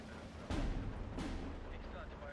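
Two booming 60mm mortar shots fire in the World War II strategy game Steel Division 2, spaced under a second apart, deep and rumbling over faint background noise.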